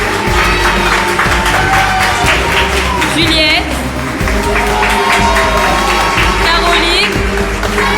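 Audience applause at a French stage performance rises as a dense wash of clapping under a voice announcing names over a microphone, steady through most of the stretch.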